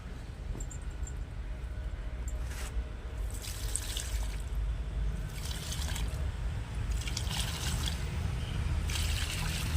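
Water poured onto a wilting aloe vera plant outdoors in hot sun, a steady broad wash of trickling, splashing water running continuously, fairly close, with a few brief brighter spatters.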